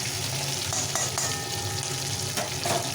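A hilsa fish head fries in hot oil with ground cumin and slit green chillies, giving a steady close sizzle with occasional spatters and a few stirring scrapes.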